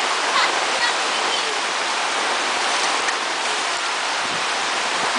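Floodwater from Typhoon Ondoy pours and rushes through a home in Sampaloc Compound, Pag-asa, Binangonan, Rizal, a loud, steady, broad wash of water that runs without a break from start to end.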